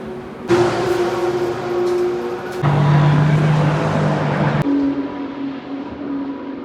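Racing cars at a wet DTM qualifying session at Spa-Francorchamps in 2022, heard trackside in heavy rain: loud engine drones rise and shift pitch as several cars pass one after another over a constant hiss of pouring rain, with no talking.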